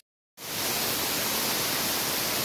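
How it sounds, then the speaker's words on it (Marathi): Heavy monsoon rain pouring in the open on the trek from Badlapur to Haji Malang, a sudden dense hiss that starts after a short silence and stays loud and steady, with no talking. "पाऊस पण जोरात वाढलाय."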